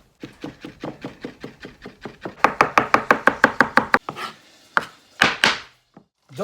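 Black trumpet mushrooms, drained, sliced very finely with a knife on a cutting board: a fast, steady run of close, crisp chops that speeds up and grows louder, then a few scattered, separate cuts.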